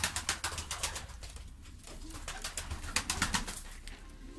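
Cooing of Sivas pigeons, repeated soft coos close by over a dense layer of flapping and fluttering wings, with other birds calling in the background.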